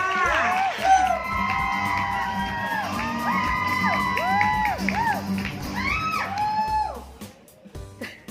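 A crowd at a Facebook fan event responds with loud whoops, cheers and shouts, excited voices rising and falling over a continuous roar before tapering off toward the end.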